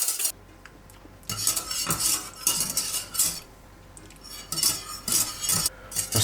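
A whisk scrapes and clinks steadily against a metal pan while a sauce emulsion is beaten over the heat, fast repeated metallic strokes in close, uneven bursts with no voices.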